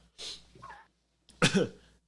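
Two separate coughs sound close and fairly soft, the second sharper and stronger, with a brief quiet gap between them.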